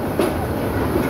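A passenger train pulling into platform 2 at Bhairab Bazar junction, with a close, steady rumble of rolling wheels and faint rail clatter for a brief moment.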